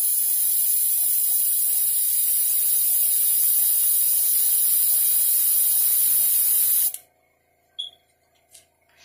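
Airbrush hissing steadily as it sprays paint through a stencil onto a fingernail, a loud continuous airy spray for about seven seconds that cuts off abruptly, leaving a few faint clicks and near silence.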